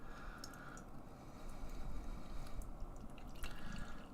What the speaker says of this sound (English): so let's pour this thing and see what we got here.